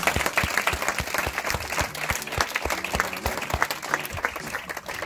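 Audience applause after a film screening at a festival, many hands clapping in a sustained, lively round with distinct sharp claps close by.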